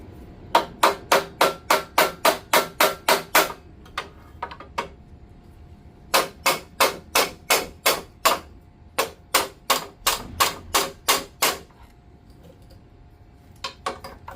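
A hammer strikes a snowblower pulley in repeated sharp metallic bursts of about a dozen fast whacks each, separated by short pauses, close and loud, with a few lighter taps between.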